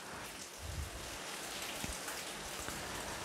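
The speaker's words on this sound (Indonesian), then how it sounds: "Seperti guyuran air hujan di pagi hari yang seperti ini." Steady rain pouring down on a morning, a dense continuous hiss of falling drops with a few heavier splashes, close and even throughout, no voices.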